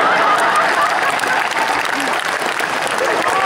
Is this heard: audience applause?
yes